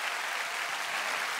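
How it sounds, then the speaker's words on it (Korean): Studio audience applause during a broadcast music show, a short, steady burst of many hands clapping at an even level with no gaps. "박수를 좀 부탁드리겠습니다."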